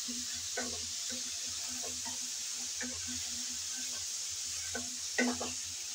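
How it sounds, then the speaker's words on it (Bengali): Crabs coated in salt and turmeric fry in a pan, giving a steady soft sizzle broken by intermittent scraping taps as they are stirred, with no voices present. "আমি রান্না বসানোর আগে হালকা করে নেড়ে চেড়ে ভেজে নিচ্ছি।"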